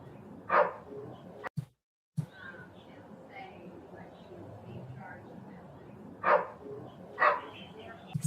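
A dog barks a few times, short sharp bursts spaced apart over a low murmur of indoor voices and room noise, fairly close.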